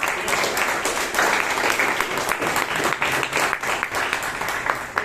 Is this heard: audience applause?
yes